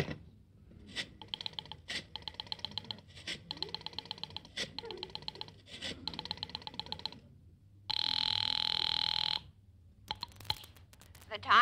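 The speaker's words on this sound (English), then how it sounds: "Dial Ulrich 8900" Old telephone ringing after a number is dialed, a rapid series of regularly repeated rings with short breaks, followed by a long steady tone; a voice speaks faintly underneath.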